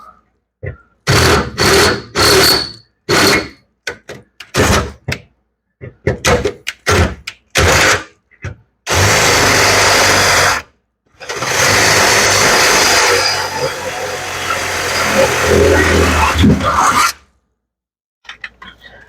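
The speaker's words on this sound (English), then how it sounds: "So I'm gonna drill this other hole." Drilling a hole in car bodywork: repeated bursts of rough grinding and rasping, then longer sustained stretches of harsh drilling, close and loud, separated by short silences.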